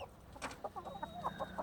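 A mother hen at a fence line, facing off with another hen in a chicken tractor, gives a quick run of soft, close clucks, with a faint high peep from chicks.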